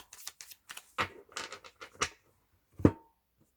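A deck of tarot cards being cut by hand: a string of quick, crisp card flicks and slaps, then a brief pause and one sharper tap, close and dry with no voices.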